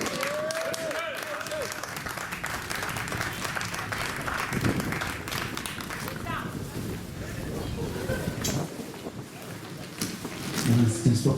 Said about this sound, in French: Je vous demande d'applaudir Michel Pierre.